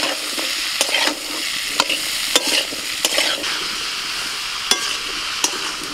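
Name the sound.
frying cauliflower and beans in a pan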